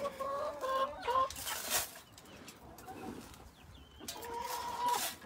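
Chickens in a backyard chicken yard clucking and cooing softly while eating from a feeder, several close, repeated calls with quiet scratching pauses between.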